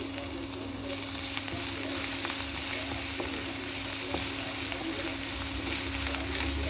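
Chopped ginger frying in a hot pan, a steady broadband sizzle with a few light clicks of stirring, close and even throughout with no talking.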